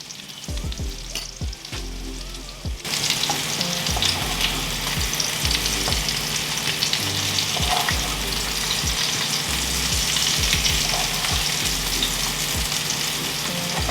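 Shallots, garlic and salmon fry in butter in a pan with a steady, close sizzle that grows louder after about three seconds, with soft scraping and stirring knocks throughout.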